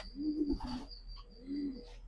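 Two soft, low pigeon coos, close by in a loft, separated by a short pause, with a faint high chirp in the background.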